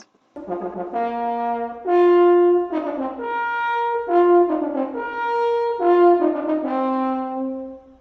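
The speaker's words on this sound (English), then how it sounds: "And that is the French horn." A French horn plays a slow, rounded melody alone, sustained mellow notes rising and falling with smooth swells and no talking.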